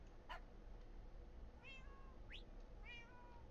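Cat meowing in the video game Minecraft, three or four short faint meows spaced over a few seconds above a steady low hum, no talk.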